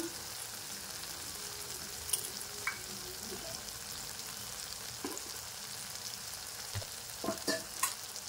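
Ginger-garlic paste sizzles in a pan, a steady frying hiss with occasional scrapes and clinks of a spoon stirring, fairly quiet and close, with no voices.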